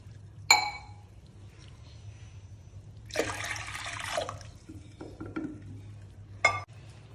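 Water is poured into a pressure cooker holding dal for a Haryanvi thali, giving a short, moderately loud rushing splash in the middle, with a sharp metallic clink of cookware before and after it.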